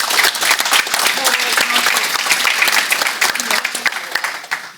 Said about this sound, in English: Clapping is fine.